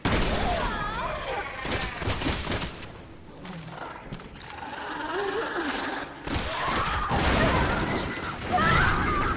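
Gunshots and crashing impacts from the action game Resident Evil 6, playing as Ada, heard as repeated loud bursts mixed with game effects, with someone talking over parts of it.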